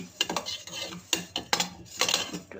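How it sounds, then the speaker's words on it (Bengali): Dal being fried and stirred in a pan: a quick series of scraping, clinking spoon strokes against the metal pan, about five sharp scrapes in under three seconds, close and fairly loud. "ডালটাকে ভালো করে ভেজে নেব।"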